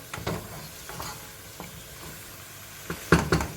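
Onions sautéing in a pan for a chickpea stew, with a low steady sizzle broken by a few sharp spoon scrapes and clinks against the pan, the loudest near the end.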